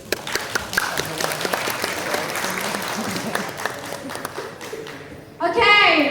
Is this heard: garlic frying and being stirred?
no